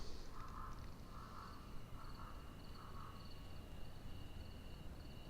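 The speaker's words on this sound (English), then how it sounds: "I can hear birds tweeting or something tweeting along there" Birds chirping at dusk at Roberts International Airport in Liberia in Microsoft Flight Simulator 2020, a few faint repeated calls in a regular rhythm over a steady low ambient hum.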